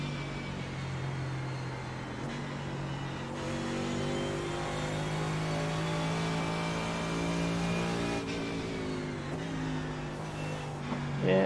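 A GT race car engine in the iRacing sim, running a VRS GT sprint at Canadian Motorsports Park, drones steadily and loudly throughout, its pitch rising and dropping through gear changes without a break.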